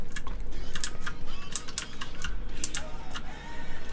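Rapid clicking from a computer keyboard runs throughout, close and fairly loud, with bursts of keystrokes and faint background game noise.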